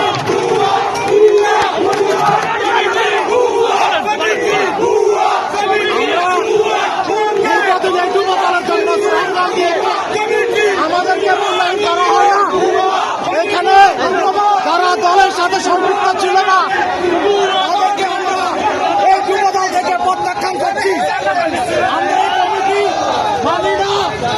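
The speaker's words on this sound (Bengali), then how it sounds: "ভুয়া ভুয়া বলে স্লোগান দিচ্ছেন" A protest crowd loudly and continuously chants the slogan "bhuya bhuya" at a march rejecting a new Jubo Dal committee in Raipur, a steady rhythmic roar of many voices.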